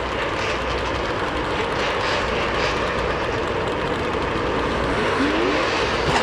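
A drag racing motorcycle engine held on its rev limiter at a drag strip, a loud, sustained, buzzing roar that barely changes for several seconds, with no talk over it.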